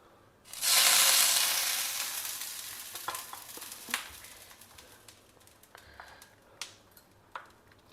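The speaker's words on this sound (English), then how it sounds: "Add a few drops of ghee to a tawa." Ghee hitting a hot tawa bursts into a loud, bright sizzle that slowly fades to a softer crackle with scattered pops, close up and with no voices.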